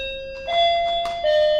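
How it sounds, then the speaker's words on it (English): A home doorbell chimes twice, two clear bright electronic tones in succession, loud and close, with nothing else heard. "that is my doorbell."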